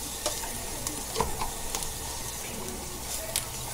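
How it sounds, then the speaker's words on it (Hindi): Masala with chili powder frying in a pan, a steady sizzle with a spoon scraping and stirring through it, close and even throughout. "इसको अच्छे से भुनेंगे, अच्छी खुशबू आने तक भुनेंगे।"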